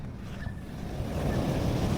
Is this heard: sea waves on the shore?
yes